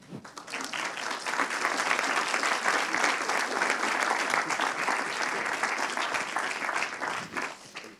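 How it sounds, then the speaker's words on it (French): Sustained applause from a forum audience for elected officials fills the room, rising quickly, holding steady and thick for several seconds, then tapering toward the end. "Moi, je propose qu'on applaudisse ces élus."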